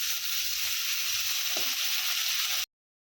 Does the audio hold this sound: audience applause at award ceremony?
no